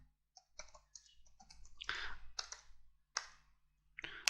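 Quiet, close keystrokes on a computer keyboard while entering text in a Microsoft Word table, with irregular clusters of clicks and short pauses between bursts.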